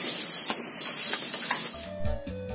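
Food frying at a stall selling Bengkalis dishes: a steady loud sizzle and hiss fills the first part, then gives way to clattering kitchen noise and mechanical tones, close by, with no speech.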